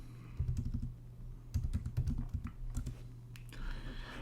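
Computer keyboard typing in a music production session, quick bursts of clicky keystrokes in two clusters with a short pause between, close and clear over a steady low hum.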